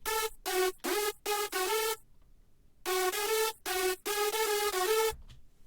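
A layered hardstyle synth lead built in FL Studio plays a bright, buzzy staccato melody in two phrases of clipped notes separated by a short gap, loud and up front.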